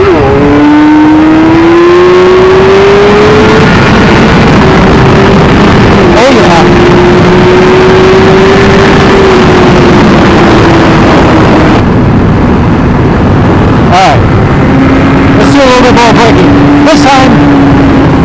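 A 2017 Suzuki GSX-R1000R motorcycle riding at speed, loud close engine drone rising and falling with throttle amid heavy wind rush, a voice talking over it.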